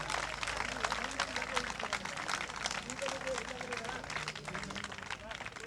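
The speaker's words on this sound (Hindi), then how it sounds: "एक बार सुदेश पुनिया जी के नाम से भी जोरदार तालियां चलाएंगे" Audience at a live comedy program claps steadily and loudly throughout, a crowd's applause continuing under a voice speaking over it.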